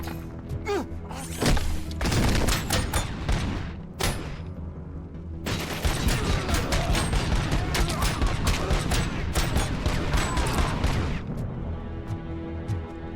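Enemy gunfire in the RoboCop Rogue City video game, loud and continuous: overlapping shots and impacts form a dense fusillade with a few brief gaps, keeping up a steady barrage throughout.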